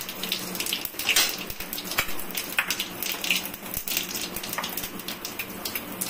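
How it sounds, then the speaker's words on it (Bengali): Whole cumin seeds, bay leaf and dried red chilli sizzle in hot oil for a Bengali potol dalna tempering, a steady close crackling hiss with scattered sharp pops and spits throughout. "এখন তেজপাতা আর শুকনো লঙ্কাটা দিয়ে দিলাম। তার সাথে হয়ে জিরাটা দিয়ে দিচ্ছি, গোটা জিরা ফোড়নে দিচ্ছি"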